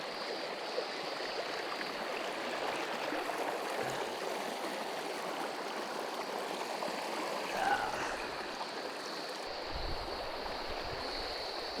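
A river stream flowing over rocks, a steady, continuous wash of running water heard close up and alone, with a faint brief knock partway through.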